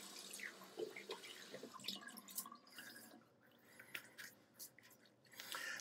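Cold water splashes and drips at a bathroom sink as a man rinses his face after a shave, a faint run of irregular wet slaps and trickles with no talking.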